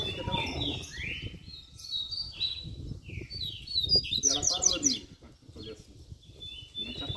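Songbirds sing and chirp steadily in an outdoor setting, many bright overlapping trills and whistles layered close and far, while someone talks in Portuguese over them and low rumbling background noise runs underneath.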